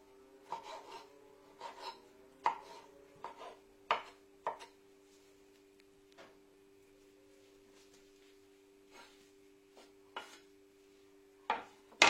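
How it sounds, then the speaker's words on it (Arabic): Red and green peppers chopped into small pieces with a knife on a board: short, irregular bursts of quick cuts, close and clear, separated by pauses. "Je prends mes poivrons et on va le couper des petits morceaux."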